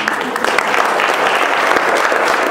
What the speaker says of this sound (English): Let's give our district a round of applause.